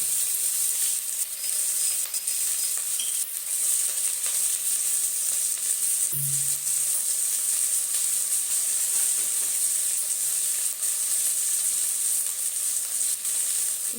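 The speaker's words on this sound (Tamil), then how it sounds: "ஆனியன் பொடியாக நறுக்கி வச்சு அதில் போட்டுருக்கேன்." A steady, even sizzle of chopped onions and curry leaves frying in hot oil fills the whole stretch, with a brief low clunk partway through and no voices.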